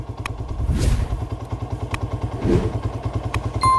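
Motorcycle engine idling just after being started during a regulator/rectifier and battery check, a loud close steady putter with a couple of clattering thumps over it.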